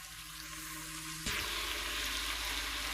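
Tomatoes dropped into a pan of frying chicken karahi, a sudden burst of loud sizzling that jumps up and holds steady, close and alone.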